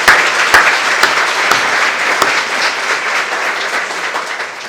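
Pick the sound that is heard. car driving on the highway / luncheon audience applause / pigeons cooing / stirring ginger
luncheon audience applause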